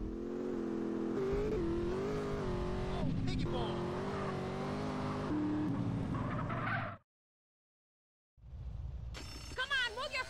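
A car driving in GTA San Andreas, engine droning and shifting pitch under in-game voices, then cutting to silence before clattering game sounds return.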